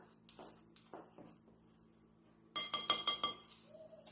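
A small spoon stirs dry ingredients and vanilla extract in a bowl, heard as a quick run of close, bright metallic clinks against the dish after a few softer scrapes, with low background hum.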